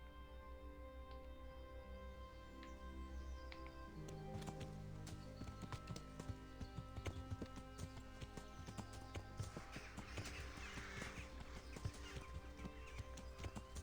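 Horse hooves in Kingdom Come: Deliverance clop in a steady, rhythmic trot along a trail, starting softly and growing more distinct and regular, with crisp close hoofbeats continuing over faint background music.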